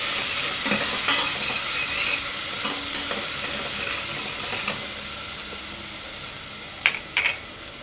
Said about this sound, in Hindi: इसको अच्छी तरह मिक्स कर लेंगे। हल्का सा सोते कर लेंगे इसको।